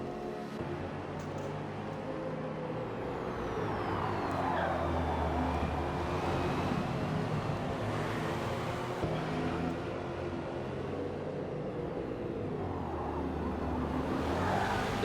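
Ferrari and BMW race cars dueling in a Le Mans racing video game, a continuous engine drone that rises and falls as they run close together, with steady road and tyre noise and no talk.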